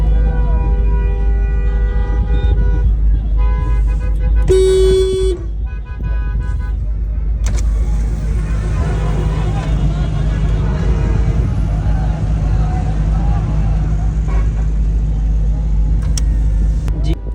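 Heavy, slow-moving night traffic jams a road in Mandi, with a steady engine rumble, a short sharp horn toot and passing vehicle noise close by, along with some talk.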